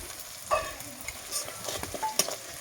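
Onions half-fried in a pan for an easy potato-and-meat curry, giving a soft steady sizzle with a few scraping stirs, close and moderately quiet, no voices.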